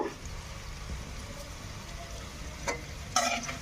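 Chopped garlic fries in a pan with a steady low sizzle, broken by a few sharp scraping clicks of stirring toward the end.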